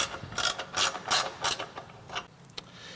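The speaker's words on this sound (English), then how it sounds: "go ahead and tighten the bolts that hold the winch into the bumper" A ratchet clicks in quick bursts while tightening the bolts that hold a winch into the front bumper of a Jeep Wrangler JL or Gladiator JT, close and clear with short pauses between strokes.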